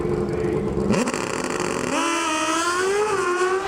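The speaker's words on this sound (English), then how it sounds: "The four-cylinder Suzuki engine screaming off the starting line." Suzuki four-cylinder Pro Stock motorcycle engine launching off the line at an NHRA drag race: a loud, sustained high-pitched scream that shifts up sharply partway through and keeps rising as it pulls away.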